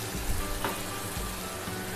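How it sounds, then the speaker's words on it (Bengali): Spice paste sizzles loudly as it hits onions already fried deep red in a pan, with steady crackling and a brief stirring scrape, close up and with no talking. "দেখো পেঁয়াজটা লাল লাল করে ভাজা হয়ে গেছে, এবার এই মশলাটা এর ভেতর দিয়ে দিলাম"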